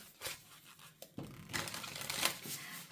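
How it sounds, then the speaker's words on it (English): Tarot cards being shuffled by hand, quiet papery riffles, crinkles and taps in irregular bursts, close up with no talk. "I am live shuffling everything today."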